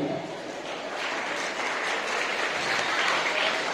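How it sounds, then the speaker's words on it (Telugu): An audience stands and claps to welcome a guru at a gathering in Siricilla, a dense, even wave of applause that swells slightly toward the end. "అందరూ ఒకసారి లేచి నిల్చొని చప్పట్లు కొట్టి గురువు గారికి స్వాగతం చెప్పండి"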